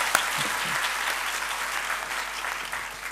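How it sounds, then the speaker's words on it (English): Sustained applause from an audience at an international academic conference after a plenary presentation, continuous and even clapping with no speech over it. "So give a big applause to the first presentation, Professor Xiao Weishen."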